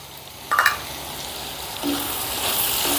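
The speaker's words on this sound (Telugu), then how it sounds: "ఇప్పుడు ఇందులో ఒక పెద్ద సైజు టమాటా ముక్కల్ని వేసుకుందాం అలాగే కొద్దిగా చింతపండు కూడా వేసుకుందాం" Tomato pieces and tamarind frying in a pan make a steady, close sizzle, opened by a quick clatter of the pieces going in, with a couple of soft utensil touches.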